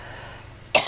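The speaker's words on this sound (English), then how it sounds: "Got a bad cough." A single sharp, harsh cough bursts out near the end after a quiet stretch of room tone, close and fairly loud, from a person who has a bad cough.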